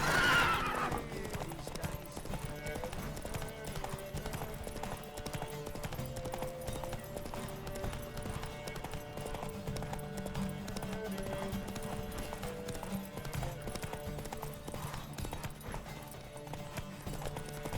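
Steady rhythmic hoof clatter of a horse galloping in the video game The Witcher 3: Wild Hunt, continuous throughout, with a faint background hum and no talking.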